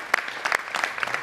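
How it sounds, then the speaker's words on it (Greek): Studio audience applause on a Greek late-night talk show, a short burst of clapping with a few louder claps standing out, close and fairly loud, with no voices over it. "παιδιά, ένα χειροκρότημα,"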